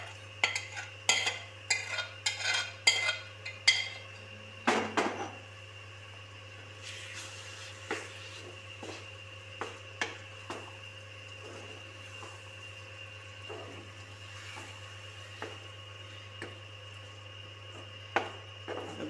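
Eggplant pieces are stirred into a spice masala in a pan, with a spoon scraping and clattering against the metal in quick bursts, then lighter intermittent scrapes over a steady low hum.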